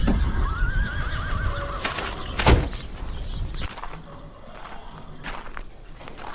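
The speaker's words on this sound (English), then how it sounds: "Horses are ready to load." A horse whinnies loudly near the start, followed by hoof clomps, shuffling footsteps and a knock in an outdoor driveway as horses are readied for loading.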